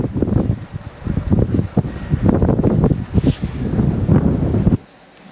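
Strong bora wind gusts during a coastal wildfire near Vodice and Tribunj, Croatia, roaring and buffeting close against the microphone in uneven surges, then dropping away abruptly near the end.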